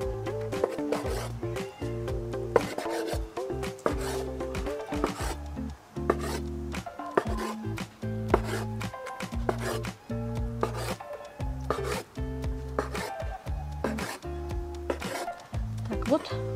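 A knife cuts a rolled chicken and vegetable strudel made with yeast dough into pieces on a board, giving repeated rhythmic chopping taps and rubbing scrapes, close and fairly quiet.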